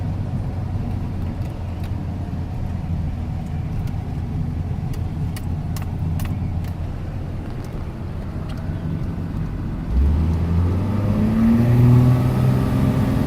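A 1993 Dodge W250 turbo truck idles with a steady, close engine rumble, then revs up sharply near the end, its pitch rising as the engine climbs. No voices are heard.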